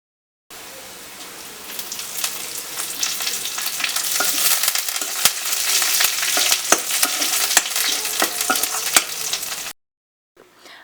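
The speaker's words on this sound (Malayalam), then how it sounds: "ഇനി ഇത് നമുക്ക് കറിയിലേക്ക് ഒഴിച്ചു കൊടുക്കണം." Hot tempering oil poured into a Kerala curry of dried prawn, jackfruit seed and mango cooked over a wood-fired stove, a loud sustained sizzle and crackle with popping bursts that runs for about nine seconds, then stops abruptly.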